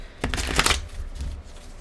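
Tarot cards riffle and shuffle in a quick, crisp burst of papery flutter, fairly close and loud, then a softer second rustle as the deck settles; no voices.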